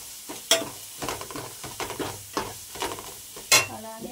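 Curry leaves drop into hot frying oil for a spicy fish curry, giving a crackling sizzle with intermittent stirring scrapes and a couple of sharp pops and clinks, close up and without speech.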